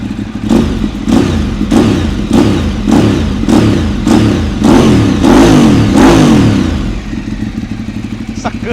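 A Ducati 848 Evo superbike's L-twin engine is revved hard again and again, roughly a dozen loud, close throttle blips over a deep rumbling idle, the bursts merging into a sustained roar before dropping back.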